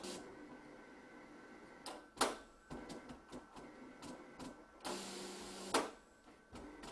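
A Graphtec cutter scans printed registration marks before cutting, making intermittent mechanical whirs and clicks in short bursts separated by quiet hums, with a longer motor sweep near the end.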